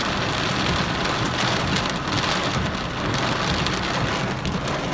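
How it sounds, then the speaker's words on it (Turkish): Heavy rain pours down on a car parked at the roadside in a dense, unbroken hiss and drumming, loud and close, with no talking. "Yağmur acayip yağıyor."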